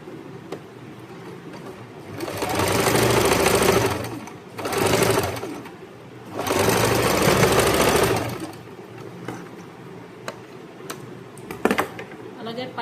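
A sewing machine stitches the pocket hem on a pair of shorts in three steady bursts of rapid mechanical whirring, separated by short pauses, with light handling clicks afterward.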